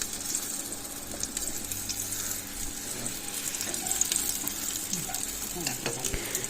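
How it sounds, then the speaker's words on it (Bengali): Litti dough balls of wheat flour sizzling in a pan, a continuous crackling fry with faint scraping touches throughout, close and steady. "প্রত্যেকটা সাইড খুব ভালোভাবে ভাজতে হবে না হলে কিন্তু আটাটা কাঁচা থেকে যাবে"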